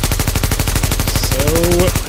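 Rapid automatic gunfire in The Division video game, a dense, fast stream of loud shots close up for about two seconds, with a brief tonal game sound near the end.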